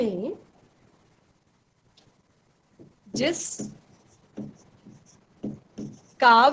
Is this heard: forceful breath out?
no